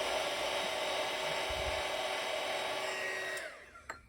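A heat gun blows steadily at close range, loosening the glue under an iBook G3 clamshell keyboard, then cuts off near the end, followed by a couple of small clicks.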